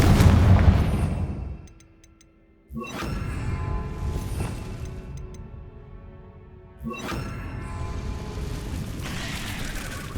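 Booming blasts of the Confringo fire spell in Hogwarts Legacy, three heavy explosions a few seconds apart, each with a long rumbling tail and crackle, loud and close, with no talking over them.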